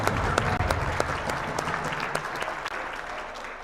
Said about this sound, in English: please, one more big round of applause for our AAA JV Girls Basketball